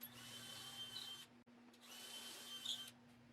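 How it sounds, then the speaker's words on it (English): Drilling pocket holes in wood with a Kreg pocket hole jig: two steady high-pitched whirring runs of a power drill, separated by a brief pause, close and fairly quiet. "began drilling out all of the pocket holes I'll be using to hold this rack together"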